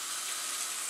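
Vegetables for soup frying in a pan, a steady bright sizzling hiss that holds level throughout without a break.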